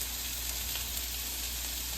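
Onions frying in a pot for pasta sauce make an even, dense sizzle with faint crackles at a steady moderate level and no voices.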